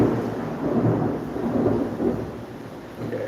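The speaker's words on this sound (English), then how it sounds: "it's a big thunder coming" Rolling thunder rumbles heavily through a storm with rain, a deep continuous roar that swells and fades without any talking.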